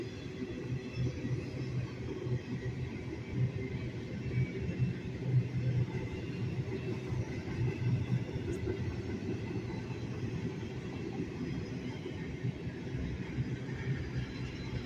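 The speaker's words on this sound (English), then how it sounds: "This train gets through." A CSX or Norfolk Southern freight train carrying containers rumbles past steadily for the whole stretch, a continuous low roar with faint wheel clatter and no talk.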